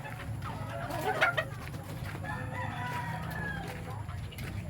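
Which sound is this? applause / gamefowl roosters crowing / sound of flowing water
gamefowl roosters crowing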